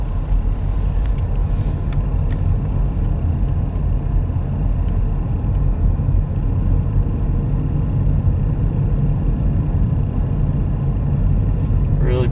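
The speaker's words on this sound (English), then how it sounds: "We're gonna just ride back now again through Melrose." A car rolls along roads through Melrose, Florida, its cabin filled with a steady low engine and road rumble that holds constant throughout, with no talking.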